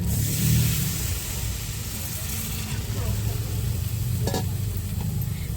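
Spiced cauliflower frying in a pan as water is poured in, a steady loud sizzle with low rumbling underneath and a brief sharper burst near the end.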